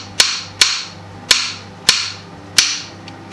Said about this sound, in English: just to cut this pineapple, dice them into smaller pieces